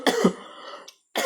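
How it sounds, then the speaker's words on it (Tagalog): A person coughs during a home cooking session of spicy carbonara noodles, one short harsh burst with a throaty rasp, followed by a brief pause and another onset. "Naubo ako."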